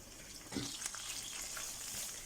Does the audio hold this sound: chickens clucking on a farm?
no